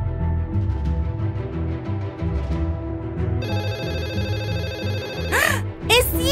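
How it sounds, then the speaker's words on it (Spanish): A telephone rings in short electronic bursts near the end, following a stretch of music with a voice over it, in an animated story scene. "¡El teléfono está sonando otra vez!"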